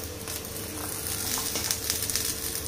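Black pepper, garlic cloves and curry leaves frying in a pan for a Telangana-style mutton curry masala, giving a steady, close sizzle with light crackling pops throughout.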